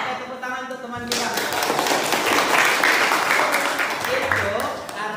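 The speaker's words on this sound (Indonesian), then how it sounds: "Oke, tepuk tangan untuk teman kita." Classroom applause for a student at a teaching performance session, starting abruptly after a second of voice and continuing as steady, fairly close clapping from a small group to the end.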